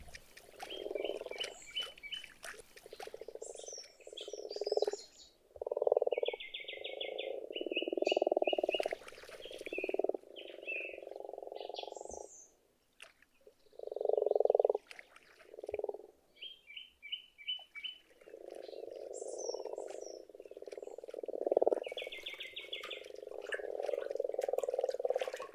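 Grass frogs croaking at a forest pond in Hungary in early spring, a series of loud, close grunting croaks in irregular bursts and pauses, mixed with high chirping calls.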